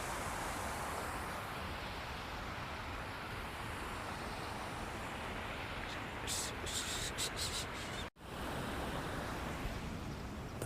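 Water pours over the overflow of a village pond as a steady, broad rushing wash heard from nearby, fairly faint, with a few brief higher clicks partway through.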